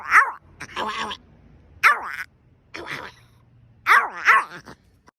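A dog gives several loud, close barks and drawn-out howling "ow ow" yowls in uneven bursts, with short pauses between calls.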